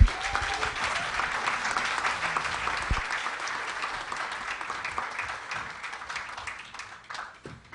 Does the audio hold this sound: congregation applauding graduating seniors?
yes